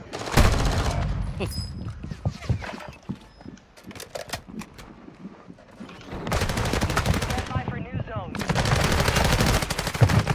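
Rapid automatic gunfire from the video game Call of Duty Warzone, with dense bursts and single shots, loud and close, lasting through the whole stretch with brief quieter gaps between long sustained volleys.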